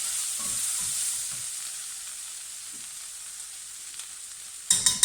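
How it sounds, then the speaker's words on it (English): Herbs stirred into vegetables frying in a pan for a sausage casserole give a steady, close sizzle with soft scraping of the spoon, ending in a few sharper, louder clatters. "So we're going to add our herbs, stir them in."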